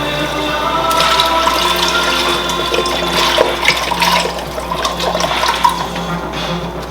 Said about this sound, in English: We're going to add right now 2 cups of beef broth.